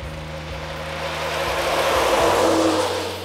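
Trucks drive on a 4.5-kilometre test track, engines droning loudly with a steady low rumble that swells as one passes close and then eases away, no voices present.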